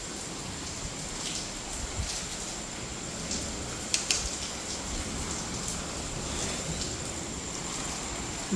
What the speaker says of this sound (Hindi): बारिश तेज है भाई